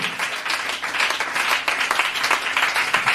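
A church congregation applauds in a dense, steady wash of many hands clapping, loud and sustained throughout with no talk over it.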